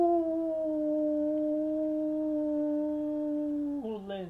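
A person imitates a wolf with a voice: one long, sustained, loud howl held steady for about four seconds, then wavering and sliding briefly at the end, with no other sound.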